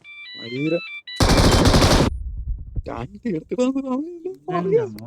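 Rifle fire from a shooting video game rips out in one loud, dense burst of about a second, with voices talking before and after it.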